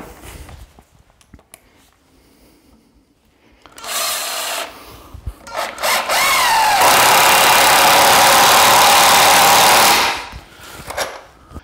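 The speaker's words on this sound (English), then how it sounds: "we're going to go center of the timber and drive a couple of screws in." A power driver sinks screws into a timber stud in a stud wall partition: a short burst, then a longer sustained whirring run lasting several seconds, close and loud after a quiet start.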